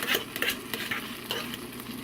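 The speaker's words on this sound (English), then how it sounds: "Mix this up one more time" A spatula scrapes and stirs scrambled eggs with tomato in a frying pan, several quick close strokes over a light continuous sizzle.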